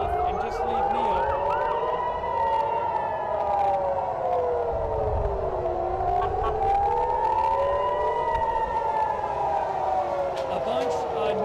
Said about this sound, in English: Sirens now.